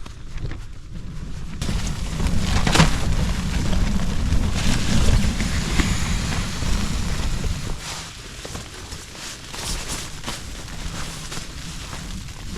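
Steady wind, gusting to about 33 mph at a snowy campsite, roars and buffets against the microphone, rising into stronger gusts in the first half and easing toward the end.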